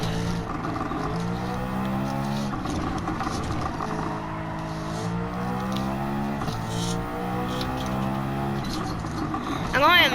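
Rear-wheel drive car driven in a Polyphony racing video game, engine droning and shifting pitch as it revs up and down through corners, continuous and loud, with someone talking over it.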